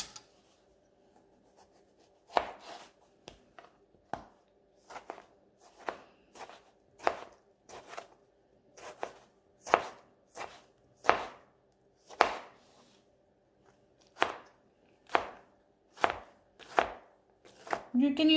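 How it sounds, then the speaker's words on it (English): A knife chops tomatoes, onion, cilantro and peppers into small squares on a cutting board, about twenty crisp taps with short pauses between, close and clear with no talking. "Now I'm gonna start chopping the tomato, onion, cilantro, and peppers,"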